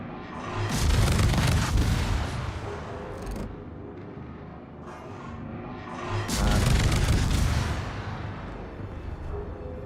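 Heavy naval gunfire from warships in World of Warships, two big booming salvos with rumbling tails, the second around six seconds in, separated by quieter ambient battle noise.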